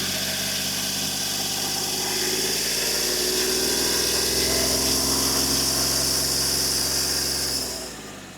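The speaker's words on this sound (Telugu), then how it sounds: "గేజ్ పుల్లని తీద్దాం, యాక్సిలరేటర్ ఇప్పిద్దాం" A Hyundai Grand i10 Asta CRDi diesel engine running close by, a steady rumbling idle that rises as the accelerator is pressed and held, then drops back near the end.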